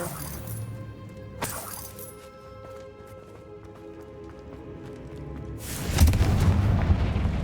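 A Confringo explosion spell goes off in the video game Hogwarts Legacy, first as a sharp blast and later as a louder, rumbling burst, over a quiet game background.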